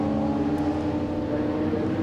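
Classic touring race cars roar around Lydden circuit, a steady loud engine drone from cars passing close by, with no voices.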